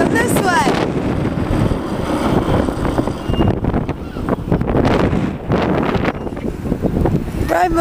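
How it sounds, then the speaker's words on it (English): Strong wind gusts buffet the microphone outdoors at a park, a loud continuous low rumble throughout, with voices talking over it. "The wind is blowing it away."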